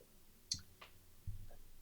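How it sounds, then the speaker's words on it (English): Faint, scattered clicking over an online call during a game development conference talk: a few sharp, isolated clicks spaced irregularly against a quiet, hissy background. "I can hear someone clicking, if that's any help."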